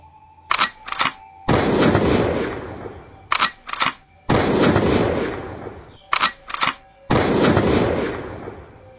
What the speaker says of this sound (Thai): เสียงปืนในมือของชายหนุ่มทั้งสาม ก็แผดเสียงกำปนาตขึ้นพร้อมๆกัน